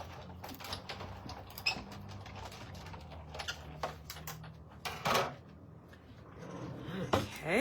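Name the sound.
paper circle going through a die cutting machine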